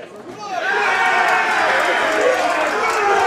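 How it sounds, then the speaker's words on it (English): Rowdy crowd at a darts money match swelling from murmur into loud, sustained cheering and chatter, a broad roar of many voices with a commentator's talk nearby. "He's got a big crowd in now. Look, they're all starting to get a bit noisy, a bit rowdy."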